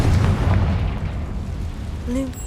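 Blasting curse from Hogwarts Legacy going off with a loud, booming burst of low rumble that fills the first half, then fades, followed by a brief tonal chime near the end.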